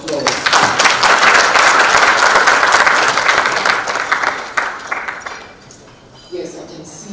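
Conference audience at Nairobi Arbitration Week applauds a panel, loud dense clapping for about four seconds that tapers off, followed by near quiet and a brief voice starting to speak.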